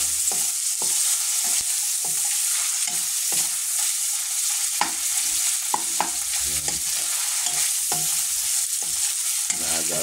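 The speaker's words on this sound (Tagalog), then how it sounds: "Ating pong piniprito muna siya." Ground meat frying for adobong sitaw, a loud constant sizzle right up close, broken by regular scrapes and clicks of a spatula stirring the pan, no voices.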